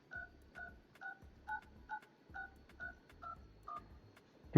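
Telephone keypad tones are pressed one after another to play a simple tune, about nine evenly spaced beeps, loud and close with no voices, ending in a sudden louder knock.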